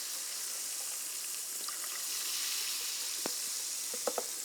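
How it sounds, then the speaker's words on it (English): Club soda poured from a can into a mug fizzes with a steady, soft crackling hiss, broken near the end by a few small clinks and drips. "you open up this can of club soda and you pour it halfway into this mug"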